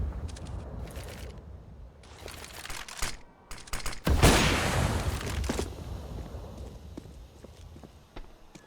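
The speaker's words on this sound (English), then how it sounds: "now Hadji with the AWP is switching hands every few seconds, but still hitting the shots either way" Rapid sniper-rifle AWP gunshots ring out during a competitive Counter-Strike match on the Train map, sharp reports scattered among clattering footsteps and game noise, with one loud burst standing out midway.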